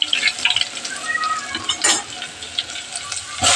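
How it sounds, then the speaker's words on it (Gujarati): Garlic sizzles steadily in hot oil in a pan, a close, continuous frying hiss with light scraping and stirring of a utensil against the pan while the pav bhaji tempering is made. "આમાં જો આપણે તેલ મૂકી દીધું છે ને હવે આપણે લસણ નાખી દઈએ"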